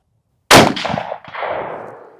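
A single loud, close rifle report from an old bolt-action gun fired freehand, followed by the ringing clang of the bullet striking a steel target and a trailing echo.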